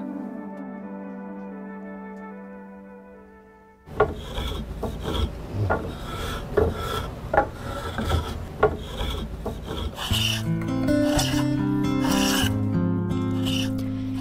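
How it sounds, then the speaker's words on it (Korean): A hand plane shaves wood in a traditional Korean woodworking master's workshop, its repeated rasping strokes loud and close, following a quieter stretch of sustained tones and ending under rising layered music. "대패질 소리가 울리는 목공소"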